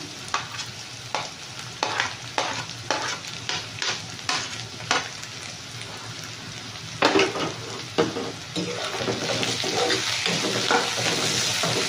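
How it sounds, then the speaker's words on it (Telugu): Finely chopped green chillies frying lightly in oil for a Bombay chutney curry, sharp spatula scrapes and taps over a sizzle that swells louder and fuller toward the end. "మన పచ్చిమిర్చి ఇదంతా ఎక్కువ ఫ్రై అవ్వాల్సిన అవసరం లేదండి, లైట్గా ఫ్రై అయితే చాలు"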